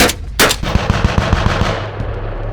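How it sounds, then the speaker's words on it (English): A .50 caliber machine gun mounted on a Stryker combat vehicle fires a rapid burst of evenly spaced shots during a live-fire exercise at a trench, loud and close, with a couple of sharp blasts at the start and echoes trailing off. "That noise you hear behind me is the 50 caliber machine gun mounted on the Stryker vehicle."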